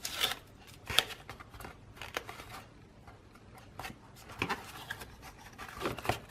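Adhesive backing being peeled from a paper craft piece for a Valentine treat holder, heard as quiet, close crinkly tearing and rustling bursts with short pauses between them.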